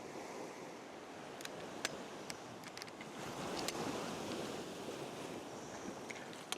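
Ocean waves wash up a beach at sunrise, a soft continuous surf roar with some wind buffeting and a few brief crackles, heard from close by and fairly quiet.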